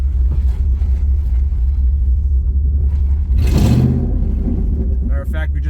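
Ford Mustang GT engine with no mufflers rumbling loudly and close, a deep steady burble with a brief swell of revving midway.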